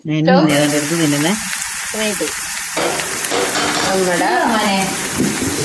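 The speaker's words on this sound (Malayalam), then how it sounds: "നമ്മുടെ ഉള്ളി കറിവേപ്പില മൂത്ത് വന്നിട്ടുണ്ട്." Onion and curry leaves sauté in a pan for a chicken stew, giving a steady, bright sizzle with light stirring throughout while a person talks over it.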